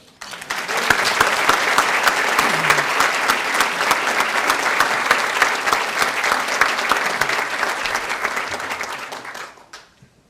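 Audience applause at the Cornucopia 2015 awards event for Bonnie Hunt, a dense, loud burst of clapping that holds for about nine seconds before fading out, with no talk over it.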